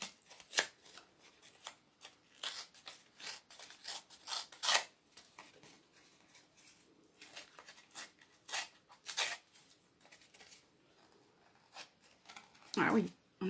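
Corrugated cardboard torn by hand for craft embellishments, heard as a series of short, sharp ripping bursts with pauses between, close and fairly loud, ending in a stronger tear.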